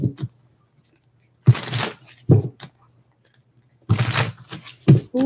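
Tarot cards being shuffled, heard as two long broadband riffling bursts with a few short crisp snaps between them, close and fairly loud against a low steady hum.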